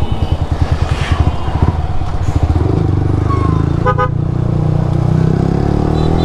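A Yamaha R15 v3 motorcycle, an Indonesian-made model with over 47,000 km, rides on a road: its engine throbs in quick pulses, then settles into a loud steady drone, with a short horn toot midway.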